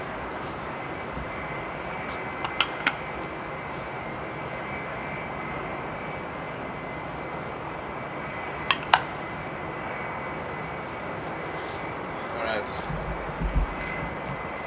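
A regular-model Turkish Airlines Airbus A320 at Amsterdam Airport after Storm Henk, its jet engines giving a steady broad roar with a high whine, a few sharp clicks partway through, and talking near the end.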